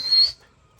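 A person whistles a short, high, steady note at close range, lasting about a third of a second before falling silent, with no talk over it.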